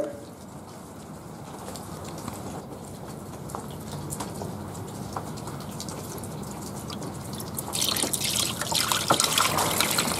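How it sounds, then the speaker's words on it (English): Water trickles and splashes steadily as it is poured into the tray of a Workforce THD 550 wet tile saw, growing louder and fuller toward the end. "You want to fill the water up to about this line right here."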